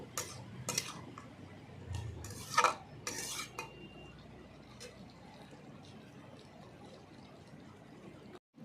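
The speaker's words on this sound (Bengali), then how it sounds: "পাঁচ মিনিট পরে ঢাকনাটা নামিয়ে নেব এই দেখো কতটা কমে গেছে ভালো করে একটু নাড়িয়ে নিতে হবে" Utensil scraping and clinking in a pan while ash gourd curry is stirred after cooking covered, a few faint irregular clatters early on, then quiet simmering background.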